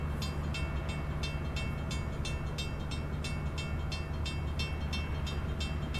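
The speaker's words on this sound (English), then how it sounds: "we might be waiting for this train to clear the track" A train passes on the track in Train Sim World 3, its wheels clicking in a regular rhythm over a steady low rumble, moderately faint and continuous.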